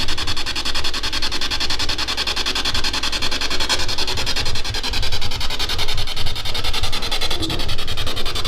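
Broadband static with a dense, rapid pulsing pattern from a radio scanning through stations during a paranormal investigation in the Sutro Tunnel, Dayton, Nevada; steady, loud and continuous, digital-sounding noise throughout with no talk.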